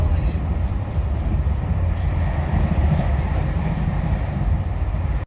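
Steady low rumble of a train in motion heard from inside a carriage, a constant dense roar that cuts off abruptly at the end.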